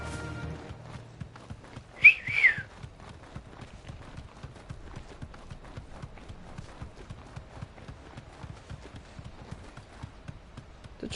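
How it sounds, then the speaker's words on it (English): A chocobo whistle in Final Fantasy XVI gives a short two-note call over steady clip-clopping footsteps, then the hooves carry on at an even trot. "My chocobo whistle sounds like a flirting whistle, I have to say."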